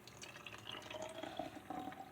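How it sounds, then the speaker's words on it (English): Water trickles and drips from a Renaissance Fair cup into a container, a soft uneven splashing that runs steadily for a couple of seconds with no talking. "So I'm going to add the water first."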